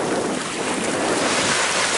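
Big waves breaking near an anchored sailboat off hurricane-hit Dominica, a steady loud roar of surf mixed with heavy wind buffeting the microphone, continuous and close with no voices.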